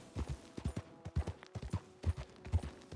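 A horse trots in Red Dead Redemption II, its hooves clip-clopping in a steady, close, fairly loud rhythm of paired beats with no talk over them.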